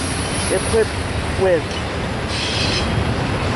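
An NS AC44C6M locomotive leads a stack and manifest freight train in El Paso, with a steady rumble of rolling cars and brief wheel squeals, while a person talks nearby.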